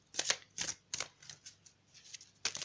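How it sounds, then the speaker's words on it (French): Cards from a Doreen Virtue angels of love oracle deck shuffled and drawn, giving a series of soft, quick papery flicks and riffles close by in a quiet room. "Donc je vais tirer une carte pour compléter un peu le tirage des anges de l'amour"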